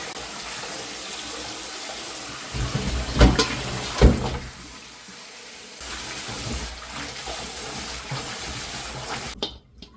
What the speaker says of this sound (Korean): 흙이 있을까봐 한 세네 번은 씻어야 돼요